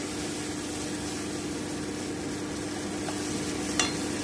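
Cumin paste stirred and fried in a pan for a vegetarian potato curry, giving a steady, close sizzle with faint stirring scrapes and one brief clink near the end.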